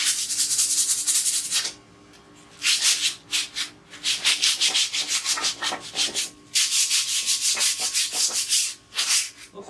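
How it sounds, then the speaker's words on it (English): Coarse 50 grit sandpaper scrubs over an old outboard engine stand originally painted red, in loud rhythmic bursts of rasping strokes broken by short pauses, close up with no talking. "Using 50 grit sandpaper and stuff,"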